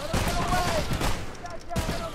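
Gunfire rings out in the video game Choo Choo Charles, rapid bursts of shots in a dense volley that pause and then resume, with some talk mixed in.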